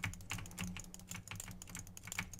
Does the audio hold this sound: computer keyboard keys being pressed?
yes